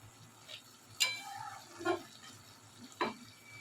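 Leafy greens stirred in a wok, with a few sharp scraping strokes of the spatula over a faint sizzle, close by and without talk.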